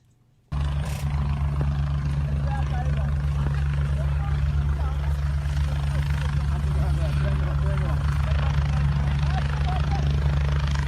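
A military helicopter flies overhead, its loud, steady rotor roar and low throb filling the whole stretch after a sudden start, with voices faintly audible beneath.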